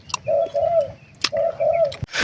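A dove coos in two similar phrases of soft, low notes, played through a small Bluetooth speaker as a hunting lure by a riverside, with a few clicks and rustles between.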